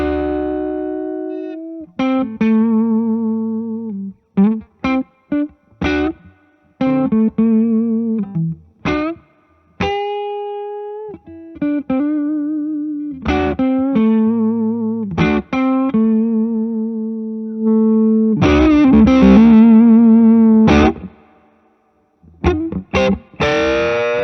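Electric guitar played through a Nobels ODR-1 overdrive pedal switched on, with a warm, distorted tone; sustained chords and single notes ring out in phrases separated by short gaps, loud and close, with no talking.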